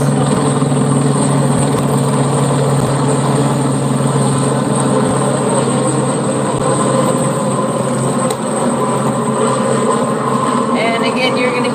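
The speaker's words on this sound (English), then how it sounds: "you're going to hear those helicopters" A loud, steady rotor-like roar fills the air without letup, with voices and crowd noise mixed underneath.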